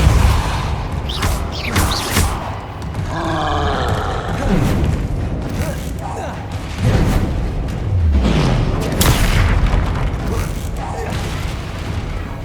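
Spell blasts and heavy booming impacts from a troll fight in the Hogwarts Legacy video game, loud and continuous, with a voice shouting spell incantations over the repeated bursts and rumbles.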